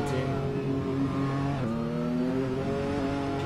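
A GT3 race car in a sim racing sprint series screams at high revs, with a loud sustained engine note that drops at an upshift midway and climbs again, no talking.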